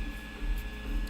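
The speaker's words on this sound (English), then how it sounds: "now I got the printer printing" A Prusa MK2S 3D printer runs mid-print with a steady electronic whine and soft motor hum, constant and close, with no voices.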